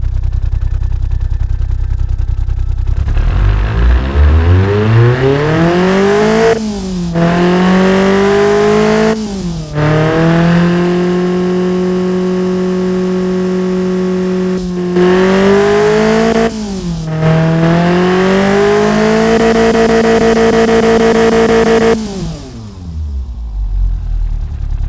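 A tuned Nissan KA24DE four-cylinder with aftermarket ECU, exhaust kit, cold air intake, different intake manifold and throttle body cranks and fires, then idles loudly and revs repeatedly in rising and falling sweeps before shutting off.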